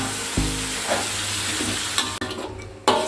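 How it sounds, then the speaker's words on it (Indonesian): Ground spice paste fries in a pan for a fish besengek, a steady close sizzle broken by scraping stirring strokes and a few sharp clanks of the utensil. "Lalu kita masukin bumbu yang sudah kita haluskan tadi ya Bun ya. Kita aduk-aduk."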